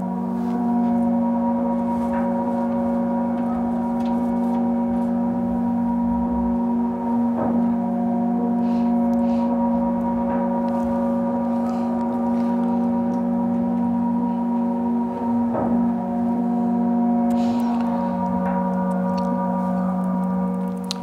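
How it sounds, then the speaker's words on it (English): Wet concrete pouring down a corrugated sheet during construction of a poured-concrete building, heard as a steady, dense, droning rumble with layered sustained tones and occasional sharp clanks, continuous and fairly loud for the whole stretch with no talk. "what I did was took a recording of the making of this building"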